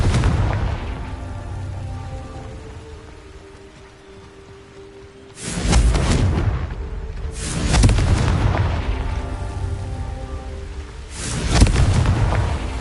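Confringo spell blasts from the video game Hogwarts Legacy: three loud booming explosions, each bursting suddenly and rolling off into rumbling debris, spaced a few seconds apart after a quieter stretch of game ambience.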